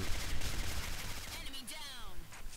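Gunfire in the online shooter Combat Arms, a burst of game shots in the first second or so, fairly quiet and mixed with background game sound and some voice-like chatter.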